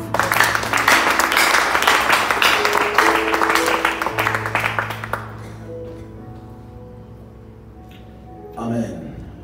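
A church congregation applauding in a burst of dense clapping mixed with voices and sustained tones, fading away midway into quieter reverberant sound with a brief swell near the end.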